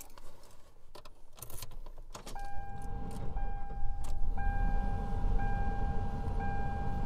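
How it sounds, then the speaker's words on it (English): Keys jingle and clicks, then a 1995 Ford Crown Victoria engine cranks and catches, settling into a steady idle hum with a faint warning chime. "So I'll go ahead and start the car up."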